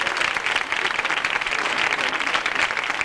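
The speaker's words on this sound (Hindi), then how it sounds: "इन दोनों के लिए तालियां तो" Dense, sustained applause from an audience at an anniversary ceremony gathering, loud and continuous for the whole stretch, with no voices standing out.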